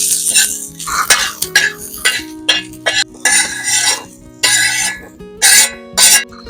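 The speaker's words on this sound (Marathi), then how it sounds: "लसूण आणि मिरच्या परतायला सुद्धा एक चमचा तेल टाकायचं आणि ते सुद्धा व्यवस्थित परतून घ्यायचं" Garlic and green chillies sauté in a spoonful of oil, with loud clattering spoon-on-pan stirring in bursts over a light sizzle, close up and without talking.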